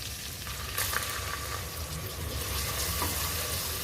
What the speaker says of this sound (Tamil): வெங்காயம் நல்லா வதக்கி விட்டுட்டாச்சுங்க.